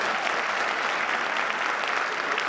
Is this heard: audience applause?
yes